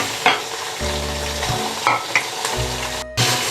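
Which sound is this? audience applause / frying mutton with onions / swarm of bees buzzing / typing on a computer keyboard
frying mutton with onions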